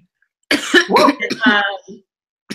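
A person nearby gives a short, harsh burst of coughing, rough and voiced, then falls quiet.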